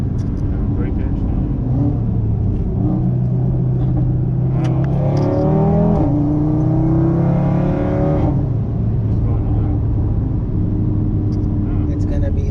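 An Audi RS3 family car running on a dyno, its engine revving and rumbling loudly and steadily near the microphone, rising in pitch mid-run, with people talking over it.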